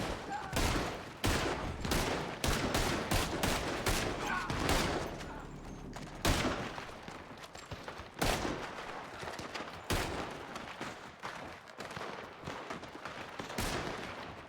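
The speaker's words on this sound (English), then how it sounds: "Open fire." Rapid gunfire crackles through a roleplay video game shootout, with dense overlapping bursts of shots at a near, loud level, thinning briefly before resuming in irregular volleys.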